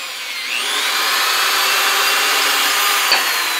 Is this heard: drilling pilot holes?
yes